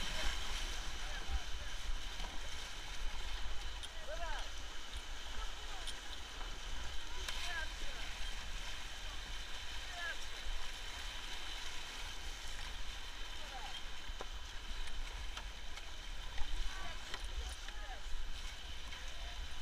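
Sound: river rapids and waterfall while rafting on the Cheremosh

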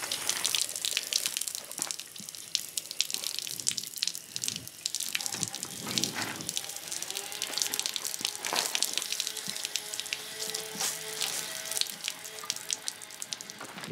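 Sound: low-pressure water stream rinsing an outboard motor

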